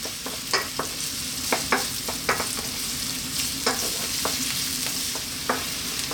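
Chopped onion and garlic frying in oil in a pan over high heat, a steady loud sizzle with scattered stirring clicks and scrapes of a utensil, close up with no talking.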